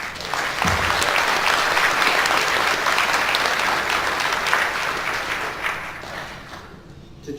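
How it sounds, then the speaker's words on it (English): Sustained applause from a large audience at an Osan Air Base chiefs recognition ceremony, loud and dense throughout, tapering slightly toward the end. "How about a round of applause?"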